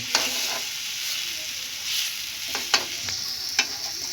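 Banana pieces sizzle steadily in a pan of hot oil, with a few sharp clicks and scrapes as they are flipped, close and fairly quiet.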